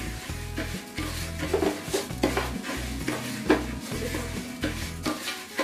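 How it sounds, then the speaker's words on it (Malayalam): Rice ada frying in ghee in a pan for palada payasam while a spoon stirs it, with steady close scraping strokes in a regular rhythm over a low sizzle. "കളർ വരുന്നവരെ അതിനെ നമ്മൾ ഇളക്കിക്കൊണ്ടിരിക്കും."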